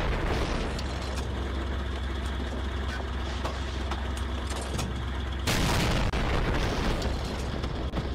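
Shots and an explosion striking the armor of a Panther main battle tank in a game, a dense continuous rumble of impacts with a sharp louder blast partway through that carries on into heavy noise.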